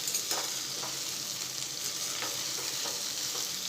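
Masala okra fries in a pan, a soft, continuous sizzle with several faint scraping stirs spaced through it, heard close and quiet.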